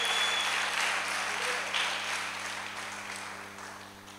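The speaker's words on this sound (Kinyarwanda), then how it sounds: "Reka twongere Yesu amashyi menshi" A congregation claps at a prayer and fasting service, an even patter of applause fading gradually, with a low hum and faint voices in the background.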